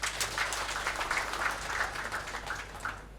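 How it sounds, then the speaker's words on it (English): Round of applause from an audience at a donation ceremony in a prison setting, a steady moderate wash of clapping lasting a few seconds, somewhat distant. "can we have a round of applause?"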